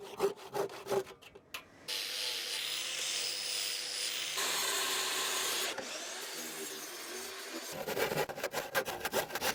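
A saw cuts through a plywood plinth in a steady, loud, close rasping grind lasting several seconds, with shorter choppy strokes before and after the main cut and no talking.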